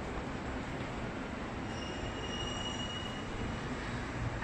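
A train rumbles steadily at Leicester railway station, a continuous broad roar of wheels on rails with faint high squeals, heard from nearby without speech.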